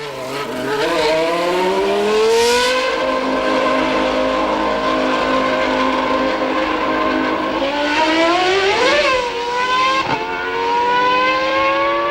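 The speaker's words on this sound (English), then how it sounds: "rijdt Jos Verstappen in Barcelona de baan op." An Arrows Supertec Formula 1 car from 2000 drives out onto the Barcelona circuit, its loud high-revving engine rising and falling through gear changes across the whole stretch, close and dominant.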